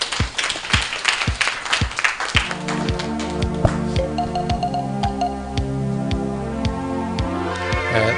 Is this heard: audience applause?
yes